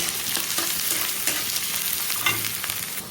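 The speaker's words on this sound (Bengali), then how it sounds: "তেলের মধ্যে প্রথমে দিয়ে দিলাম কুচনো করা পেঁয়াজ" Chopped onion sizzling in hot oil for an egg tadka, a steady close crackle of frying with light stirring scrapes throughout.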